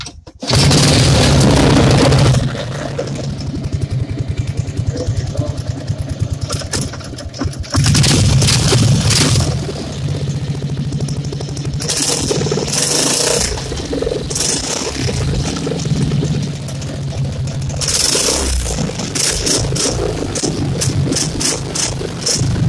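The small gas engine of a mini V-hull boat cranks and runs. It is loud and close, with a steady rattling drone that surges and shifts, and brief louder bursts occur along the way.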